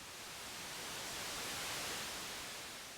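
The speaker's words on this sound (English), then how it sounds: "And that just generates regular white noise, no pink noise or anything else" Steady, dense white noise from a Novation Bass Station II synthesizer's noise generator hisses evenly for a few seconds, swelling slightly in the middle, with no other sounds.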